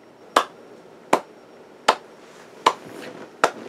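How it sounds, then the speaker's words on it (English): Five sharp, isolated claps in Sonic the Hedgehog (2006) ring out at an even, slow pace, each crisp and distinct against a quiet background. "Who's clapping?"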